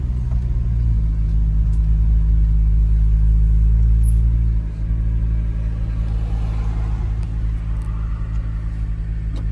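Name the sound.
Acura NSX supercar engine in sport setting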